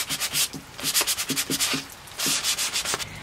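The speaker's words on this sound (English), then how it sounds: "Just going in with some sandpaper." Hand sanding paint splotches off a wooden rush-seat chair with sandpaper: brisk, rhythmic scratchy strokes, close and steady, with a short pause midway.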